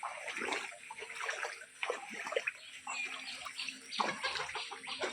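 Barak river floodwater flows around houses in Katigara, a soft uneven rush with trickling and splashing, faint and close.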